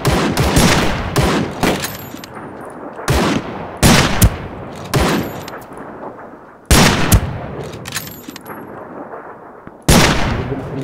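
Loud gunfire in the shooter Ring of Elysium: about eight sharp, close shots spaced irregularly, each followed by a short decaying echo, with quiet gaps between them.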